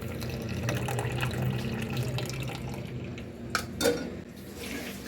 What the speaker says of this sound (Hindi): ये कीमा साफ कर रही हूँ, कीमा धो रही हूँ।